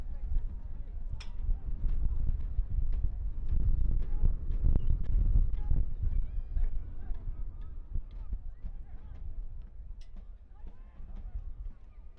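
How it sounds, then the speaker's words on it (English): Gusty wind of about 10 to 15 mph buffets the microphone at an outdoor professional soccer match, a low rumbling roar that swells and eases, with scattered field noise and speech in the background. "Wind gusts up to 10, 15 miles an hour today."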